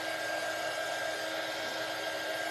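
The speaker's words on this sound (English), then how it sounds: "let's hit them with the dryer real quick" A hair dryer blows steadily over freshly made candy corn shelf sitter craft pieces, a continuous loud broadband whoosh with no pauses and no talking.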